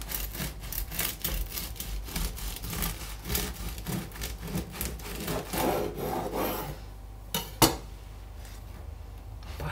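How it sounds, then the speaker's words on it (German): A knife saws through a freshly baked sourdough loaf in repeated rasping strokes with a crusty scraping texture, close and fairly quiet, ending with a couple of sharp clicks. "So, komm, eine Scheibe schneide ich noch an."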